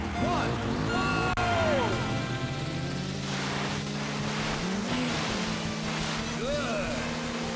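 Jet ski engines racing across water in the Nintendo 64 game Wave Race 64 at Sunset Bay, a loud steady motor whine with rising and falling pitch sweeps over splashing surf, with faint background game sounds.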